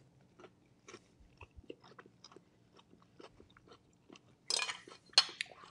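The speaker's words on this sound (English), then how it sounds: "So let's try at least a little bit of salmon." Someone eating seared salmon with a jicama mango salad dressed with cilantro and lime: soft, quiet chewing and small crunches recur close by, followed by a couple of louder clinks of cutlery on a plate near the end.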